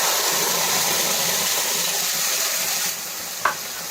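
Steady loud sizzle of tomato, ginger, garlic and green chili paste frying in a pan, with a faint clink of a utensil near the end and no talking.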